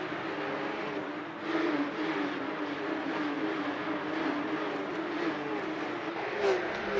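Porsche Supercup race cars in Assetto Corsa at the Hockenheimring drone steadily through a chicane and the final corners, a continuous engine roar with shifting pitch, while a commentator talks over it.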